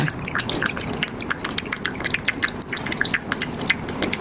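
Seasoning sauce (white soy sauce) going into a pot of pork bone soup for Ubon-style rice noodle soup, a close, busy run of small drips and splashes that stays steady throughout with no talk.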